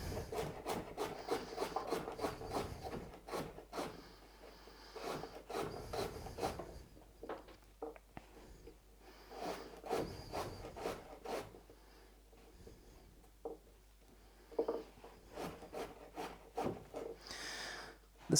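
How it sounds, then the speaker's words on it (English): A knife slices thin-skinned, washed, unpeeled vegetables into small pieces on a cutting board during Sunday meal prep, making close, repeated scraping strokes in two bursts separated by a short pause, with no talking. "I'll just quickly cut these up into little slices."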